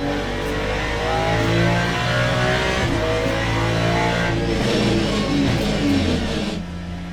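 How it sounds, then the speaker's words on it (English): Ferrari 296 GT3 racing at Lusail in the Le Mans Ultimate sim, its engine loud and continuous as it revs through the gears, with a brief tyre squeal under braking and a drop in pitch near the end. "So that was a lap at LUSAIL in the Ferrari 296 GT3"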